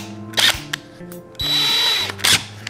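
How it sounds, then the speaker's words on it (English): A power drill pre-drills the top piece of wood during a bass guitar assembly, with two short whirring bursts around a longer steady run, loud and close with no talk. "We're gonna pre-drill the top piece"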